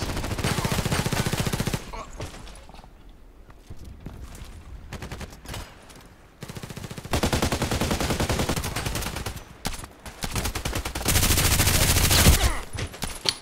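Bursts of automatic fire from an RPKT machine gun in the shooter game Contract Wars, loud, dense rattling volleys that cut off and resume several times, with a quieter stretch between them.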